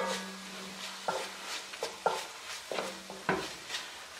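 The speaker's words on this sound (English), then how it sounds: "Give that a quick stir because I really don't want the garlic and those herbs to burn." Garlic, herbs and mushrooms stirred in a pan over low heat, heard as a series of close scraping strokes in an uneven rhythm over a soft sizzle.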